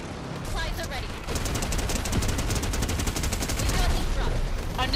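Rapid, dense gunfire from Fortnite weapons during a live in-game event, with sustained bursts of repeated shots filling the clip and overlapping voices talking excitedly.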